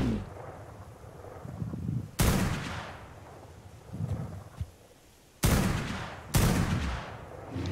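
A super gun fires in modded Ark: Survival Evolved on a Scorched Earth map, loud booming blasts with long rumbling tails. About four heavy shots land at irregular intervals over a low, noisy background.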